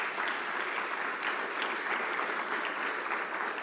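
Sustained applause fills a conference hall at an international gathering on Mediterranean food, steady and dense without breaks, with no voices over it.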